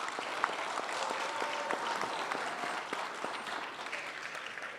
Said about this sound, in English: Clap it up for Josh Shepperson.